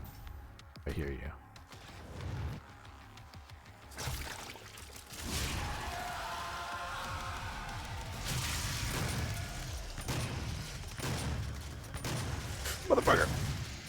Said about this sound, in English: I think I missed with that shotgun a disgusting amount of times.